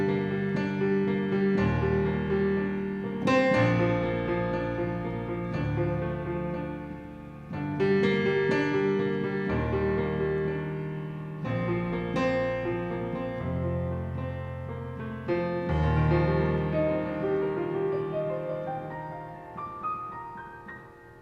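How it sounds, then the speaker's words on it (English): Acoustic grand piano sampled from a Yamaha 7-foot grand in the Ivory software instrument, playing a worship song with sustained chords and a bright melody, moderately loud and continuous with no voice. "It's a Yamaha 7-foot grand"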